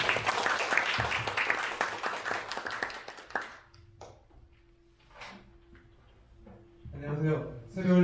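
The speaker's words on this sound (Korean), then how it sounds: "큰 박수로 맞아주십시오" An audience at a BNI chapter feature presentation breaks into loud applause that dies away after a few seconds, leaving quiet room sounds before a voice begins speaking.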